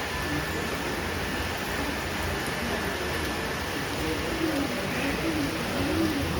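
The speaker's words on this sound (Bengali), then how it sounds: "সাত সকালে বৃষ্টি শুরু হয়েছে।" Early-morning rain falling steadily outside a house: a dense, continuous hiss of fairly even loudness, with a faint low murmur underneath.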